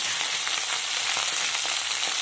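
Curry leaves and green chilies crackling in hot oil for gongura pulihora, a loud, even sizzle with faint popping throughout and no voices.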